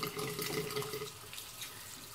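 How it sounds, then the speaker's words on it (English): Water runs steadily from a sink tap while paint brushes and soapy hands are rinsed, a continuous close splashing hiss that eases slightly toward the end. "Then I'm going to turn the water back on."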